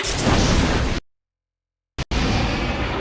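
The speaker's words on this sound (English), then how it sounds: "Blood demon art. Exploding blood!" A burst of exploding blood from a demon's blood art attack in the Demon Slayer Hinokami Chronicles video game, a loud full-band roar for about a second, abrupt silence, then a brief pop and a second sustained blast.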